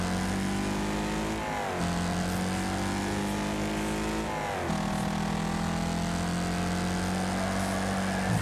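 Race car engine in a video game roaring continuously as the car runs off the track, with two sharp dips and rises in pitch like gear shifts, loud and close with no talk.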